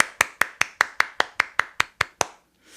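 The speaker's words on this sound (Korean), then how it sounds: "박수로 모시겠습니다." One person's hands clap steadily about eleven times at an even pace to welcome a speaker, close and sharp, then stop into quiet.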